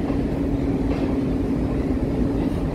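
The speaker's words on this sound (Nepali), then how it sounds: "आज म यो रेलको ठ्याक्कै छेउमा आएर म त्यो भिडियो लिइरहेको छु" A long train stands beside the platform at Siliguri station, giving off a steady, close, low rumble with a constant hum for about three seconds and no voices.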